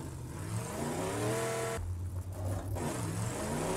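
A car engine in the video game Rage 2 drones and revs steadily at moderate volume with no talk over it, its pitch dipping briefly partway through before settling back.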